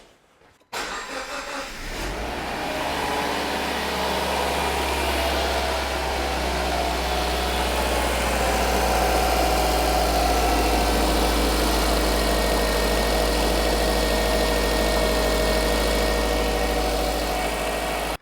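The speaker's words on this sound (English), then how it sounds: "So I'll just go and get the car turned on." A Subaru Impreza, undergoing radiator replacement and coolant flush, cranks and starts, then settles into a steady, loud, close idle with a constant low drone and no talking.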